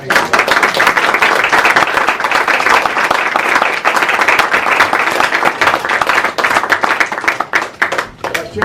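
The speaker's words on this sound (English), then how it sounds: "Just the way I told you to clap," Audience clapping loudly and continuously at a small gathering, dense close hand claps with a few voices mixed in.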